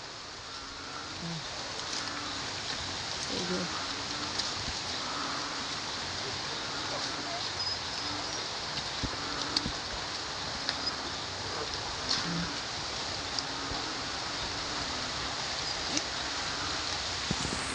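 Constant hiss of rain with gusting wind before a typhoon in the Philippines, a dense steady wash of noise; faint voices sometimes surface beneath it.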